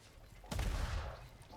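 Gunfire in a video game: one muffled, booming burst of shots rises midway and rumbles briefly before easing off, with no talk.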